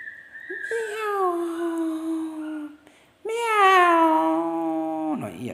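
A cat lets out two long, drawn-out meows, loud and close, with a brief pause between them and a sharp squeak at the end.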